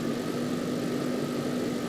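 Engine of a car in the A Dusty Trip video game runs at a steady, continuous drone with a fixed hum, alone and without talk.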